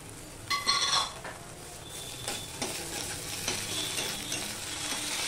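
Ginger paste fries and is stirred in a pan with a steady low sizzle and intermittent scraping strokes of a spatula, close by.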